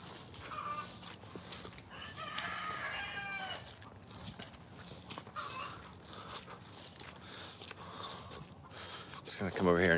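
Backyard chickens and a rooster in a wet, rain-soaked fruit-tree garden cluck and crow in bursts beneath someone talking over steady outdoor background noise.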